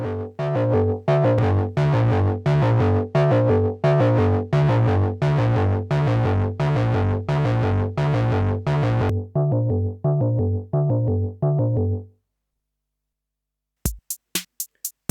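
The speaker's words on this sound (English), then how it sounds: "If I adjust the crossover point, I can change the frequency at which the distortion starts to happen." Synth notes played through a Great Eastern FX XO Variable Crossover distortion pedal: a loud, steady run of rhythmic chords that thins out into shorter hits and stops, followed by a few sharp clicks after a brief silence.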